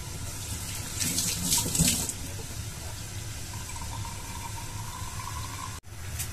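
Milkfish is washed under running tap water, a steady splashing stream with louder gushes early on, then a calmer flow, close and moderately loud.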